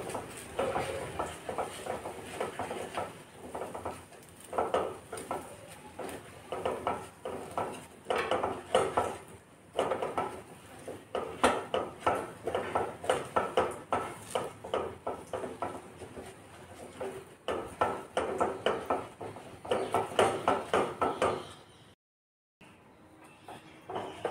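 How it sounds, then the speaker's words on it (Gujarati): A spoon stirs thick Gujarati lapsi, a traditional sweet, in a pot. It makes soft, rhythmic scraping and knocking against the metal, fairly quiet and continuous, with a brief pause near the end. "આપણે એને હલાવીએ. આવી રીતે એને સરસ હલાવી લેવાની."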